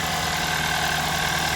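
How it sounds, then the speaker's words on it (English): A Hyundai Sonata or Kia Optima engine idles steadily on a cold start after a P0010/P0011 code fix, with a constant, even mid-pitched hum and no voices. "And we are idling where we should be. It's not climbing. It's just on the cold start"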